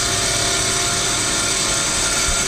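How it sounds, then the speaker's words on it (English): A Hyd-Mech bandsaw making a light squaring cut, the blade barely touching the metal stock, gives a steady, loud, dense machine whine with a constant hiss and hum throughout. "Doing a squaring cut. So it's just barely touching the material on the way through."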